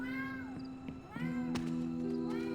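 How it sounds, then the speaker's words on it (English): A pet cat meows a few times close by, with a steady tonal game soundtrack running underneath throughout. "that meowing is my cat."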